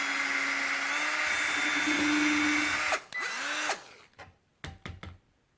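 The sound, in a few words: power drill drilling a small hole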